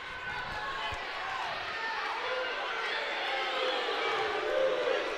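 A wrestling match crowd roars and urges for a takedown, a dense, sustained wash of voices and shouting that swells slightly toward the end, heard at a distance in an arena.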